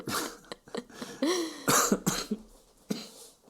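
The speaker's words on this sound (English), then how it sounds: "the slow fade out of the cough" A run of coughs, several sharp bursts close to the listener, then a throat clear and a last fading cough.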